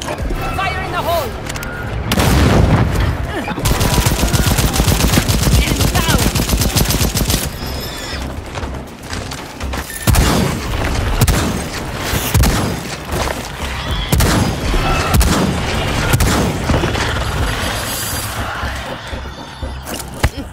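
In the video game Second Extinction, a grenade blast and heavy automatic gunfire ring out in loud, dense bursts of rapid shots and booms over twenty seconds, with voices calling out amid the combat.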